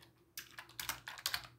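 Quick, light computer keyboard typing, a short burst of several close keystrokes clicking in an uneven rhythm over a quiet background.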